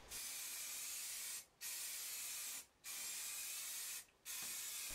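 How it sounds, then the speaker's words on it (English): Spray gun applying primer filler coats to Moto Guzzi Le Mans 3 cafe racer motorcycle parts, three steady close hissing bursts separated by brief pauses. "I applied 3 good coats of the primer filler"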